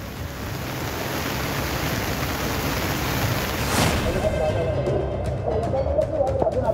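Heavy monsoon rain pours down on Ghodbunder Road in Thane, near Mumbai, in a steady, dense hiss throughout, with occasional faint chirps and splashes in the background.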